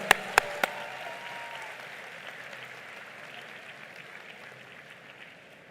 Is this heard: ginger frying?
no